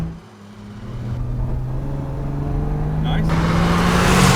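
A classic British six-cylinder sports car engine, an MGC Roadster or Triumph GT6, accelerates from inside the car, its drone climbing steadily in pitch and growing louder, with wind rush building and a brief spoken remark.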